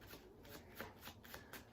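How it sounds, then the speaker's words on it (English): Quiet overhand shuffling of a deck of playing cards before a straight game of five-card poker, a series of soft rhythmic riffling slaps repeating about every quarter second, close and alone without speech. "On his shuffles, the overhand style,"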